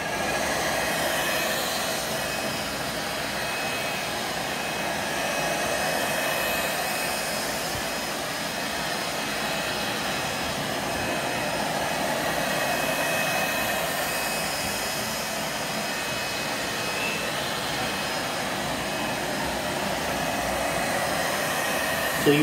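ILIFE V80 robot vacuum cleaner running in spin mode, a steady whirring hum with a faint high whine that holds at an even, moderate level throughout, close by, with no talk.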